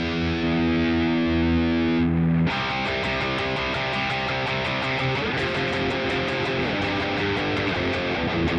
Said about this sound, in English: it's a pretty cool distortion just to use on anything